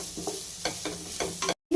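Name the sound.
green chillies and vegetables sautéing for prawn fried rice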